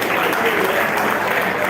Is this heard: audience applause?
yes